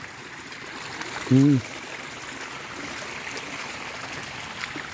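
Water flows through a channel in a once-dry waterway, a faint, steady rushing trickle with a brief hum from a nearby voice.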